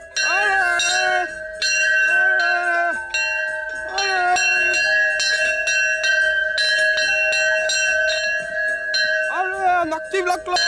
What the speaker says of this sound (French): il faut activer la cloche. Allez, on active la cloche.